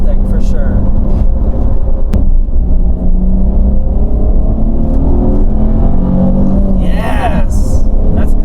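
Nissan 350Z engine accelerating with a steady, loud low rumble that rises in pitch across the clip, heard from inside the car with occupants talking over it.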